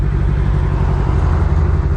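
A Grom motorcycle engine runs close and loud, a steady, low, rumbling drone with no talking.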